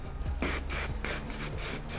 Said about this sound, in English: You can do that by adding a texturizing spray in.